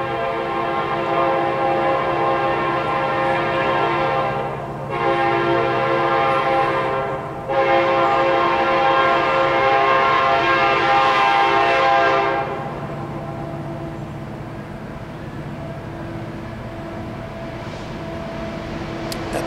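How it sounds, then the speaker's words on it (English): A Kansas City Southern Railroad train passes at a distance with a loud, sustained horn sounding in several long blasts over rumbling wheels and cars, then the horn stops and the train noise carries on more quietly. "It is the Kansas City Southern Railroad."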